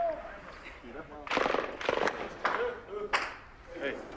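Mortar fire in combat during the battle for Marjah, heard as several sharp, loud blasts spaced through the stretch with a faint background of voices.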